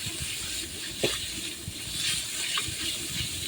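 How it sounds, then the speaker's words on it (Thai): Minced pork is stir-fried with curry paste in a pan at a made-to-order Thai stall, a continuous hissing sizzle with scattered scrapes and clacks of the spatula. "ใส่หมูลงไปผัดต่อนะครับ"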